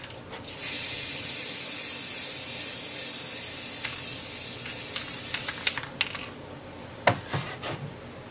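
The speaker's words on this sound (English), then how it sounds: "This is Rust-Oleum 2X Ultra Cover Clear Satin. Give this thing a nice little spray." Rust-Oleum 2X Ultra Cover Clear Satin spray paint hisses from a can onto a Valentine sculpture in one long continuous burst, followed by a few short light taps and handling clicks.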